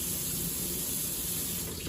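Lukewarm tap water runs steadily at home to bathe a dog, a continuous close hiss and gush with no pause and no voices.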